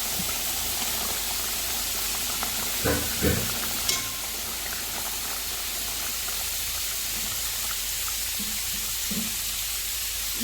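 Washed prawns drop into a simmering coconut kudampuli prawn curry, a steady hiss and gentle bubbling with a couple of soft splashes and clinks as they go in.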